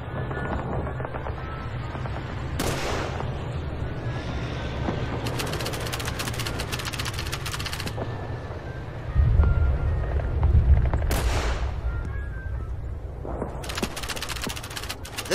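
Rifle shots at helmet targets in Call of Duty 3, a few sharp cracks standing out over a dense bed of game noise and distant gunfire, with a louder burst of rumbling impacts near the middle.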